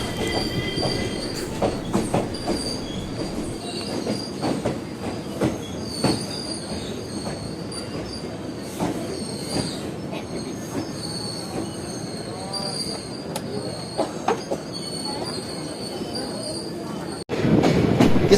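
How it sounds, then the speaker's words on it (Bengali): The 13104 Bhagirathi Express passenger train rolls through Ranaghat station with loud, sustained wheel squeal, rumbling carriages and rhythmic rail clatter heard from on board, a sharp jolt near the end. "কিছুক্ষণ হল দেওয়ার পর আমাদের ট্রেন ছেড়ে গেল রানাঘাট রেলওয়ে স্টেশন"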